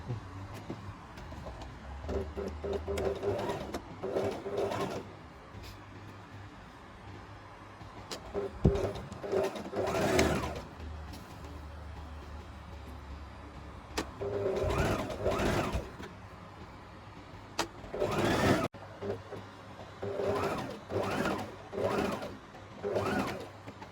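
A domestic sewing machine stitching a flared half-circle maxi skirt, running in repeated bursts of rapid mechanical chatter with pauses between, fairly quiet, with low background hum.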